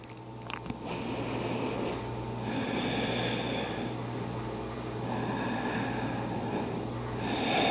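Slow, soft breaths drawn in and out through the nose during a restorative yoga pose with blocks, faint and steady beneath quiet background music.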